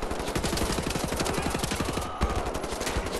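Rapid automatic assault rifle fire from Wolfenstein: The New Order, a dense, steady stream of close shots that keeps going with only a brief break.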